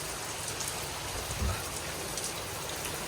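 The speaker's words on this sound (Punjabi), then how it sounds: "ਬਾਹਰ ਮੀਂਹ ਤੇਜ਼ ਆ ਗਿਆ" Heavy rain pours steadily outside at night during a thunderstorm with lightning in a Punjab village, a dense continuous hiss with a single low thump partway through, and no voices.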